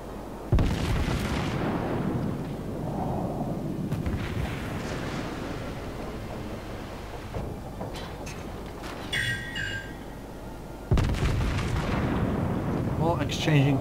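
Battleship guns in World of Warships boom heavily a few times, with a loud salvo at the start and another near the end over a rumbling sea-battle backdrop.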